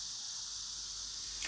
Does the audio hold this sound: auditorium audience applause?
no